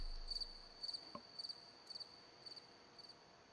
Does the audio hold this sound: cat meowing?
no